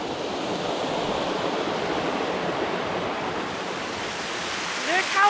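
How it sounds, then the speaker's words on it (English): Rushing water from a waterfall, a steady broadband roar heard from some distance in a wild camping setting, with a brief voice near the end. "Oh, I think I can see a waterfall."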